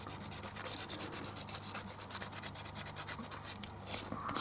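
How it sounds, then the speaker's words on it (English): Quick rhythmic scuffing of plastic barrels with abrasive, a close, steady rasping rub of rapid back-and-forth strokes without any talk. "quickly scuff up the barrels, tubes,"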